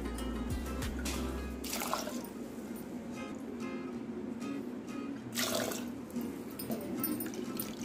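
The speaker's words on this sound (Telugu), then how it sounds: "ఇప్పుడు వాటర్ యాడ్ చేసుకుందాము" Water is poured into a pot of mango dal (mamidikaya pappu): a soft, continuous splashing and trickling, fairly quiet and close, with a few faint clinks.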